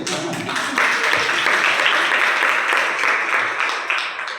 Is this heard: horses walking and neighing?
no